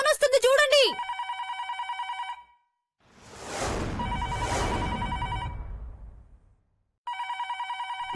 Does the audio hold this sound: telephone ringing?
yes